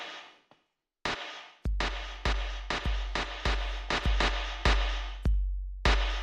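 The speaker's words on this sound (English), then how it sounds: "yeah, you got some real like Ruby generated snare drums there" Synthesized snare drum hits built from noise generated in Ruby code: a steady run of about a dozen sharp, bright noise bursts with quick decays, loud and close, with a short pause before the last two hits and no voice over them.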